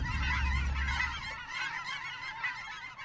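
A flock of geese honking continuously at a distance in Pacific Northwest wilderness, overlapping calls forming a steady outdoor chorus with no talking.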